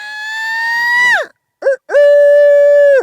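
A hand-held screech owl call used to roost turkeys in the afternoon, mimicking a screech owl's scream: a loud, close, wavering whinny that drops off, then a short chirp, then another long sustained note.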